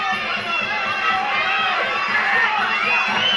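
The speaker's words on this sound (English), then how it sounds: "Geelong crowd heating up here" A fight crowd at the Italian Social Club in Geelong roars and cheers steadily during a five-round bout, a dense wash of voices that stays loud throughout, with a commentator talking over it.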